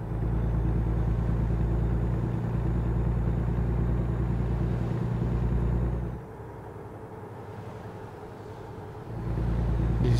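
A heavy truck engine in American Truck Simulator drones steadily at a low pitch while hauling a load, with a brief drop in level partway through before the rumble swells back up.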